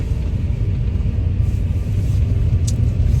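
A car's interior fills with a constant deep road rumble and engine drone as it drives along the road, loud and unbroken, with one faint brief tick near the end and no speech.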